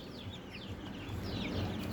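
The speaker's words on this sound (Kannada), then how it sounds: "ಇದು ಪುಟಾಣಿ ಮರಿಗಳು" Tiny chicks kept in small coops peep steadily, with a busy overlapping chorus of thin chirps. A low background rumble runs underneath.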